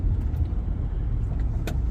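Midday road traffic in Athens, Georgia heard from inside a car: a steady low engine and road rumble with a brief higher whoosh of a passing vehicle near the end, no talking.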